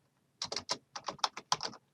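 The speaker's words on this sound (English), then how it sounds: "so I went to a browser and I typed YouTube." Quick keystrokes on a computer keyboard, about a dozen crisp clicks in short uneven bursts, close and alone in a quiet room.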